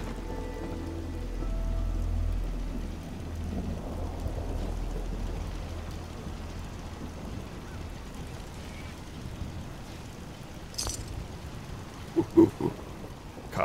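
Steady rain falls in the video game Fallout 4, a soft continuous patter with a low rumble early on, joined later by a few brief clicks and short sound effects.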